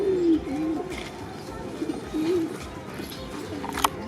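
Pigeons coo in a loft or coop, low soft rolling calls repeating several times close by, with faint background rustle and occasional chirps.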